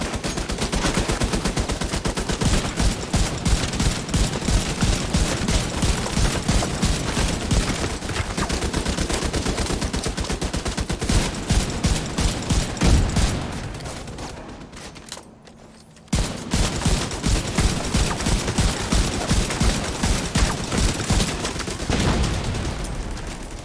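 Sustained automatic turret gunfire in The Division 2 during a heroic Warlords of New York mission, rapid continuous bursts that break off for a moment near the end and then resume.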